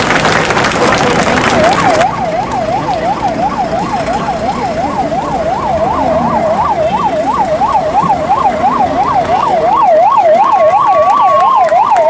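Ambulance sirens wail in a fast, rising-and-falling yelp as six life-support ambulances are flagged off at IGMC Shimla, the cycling tone loud and close over engine and crowd noise, with a second siren pattern joining near the end.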